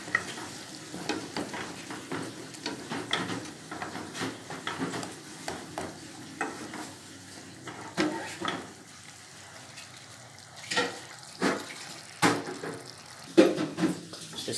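Frozen red beans being stir-fried in a pan for an egg rajma dish, with soft sizzling and repeated scraping and clinking of a spoon against the pan, moderately quiet and close.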